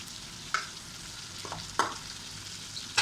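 Local freshwater fish caught from rice paddies fry in a pan, a soft steady sizzle with a few sharp spatters and stirring scrapes popping out, near and alone.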